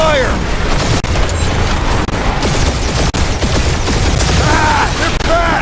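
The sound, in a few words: gunfire in Guardians of the Galaxy video game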